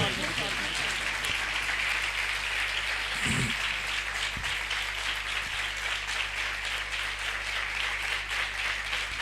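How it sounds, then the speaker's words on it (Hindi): Congregational applause at a church service for a performer, a steady wash of clapping that runs throughout, with a couple of brief low thumps near the middle. "भरपूर तालियां बजाएगा"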